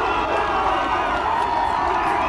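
Loud, dense crowd roar and cheering fill the stands of a high-school football championship after a touchdown, sustained and steady throughout with scattered shouts and whoops.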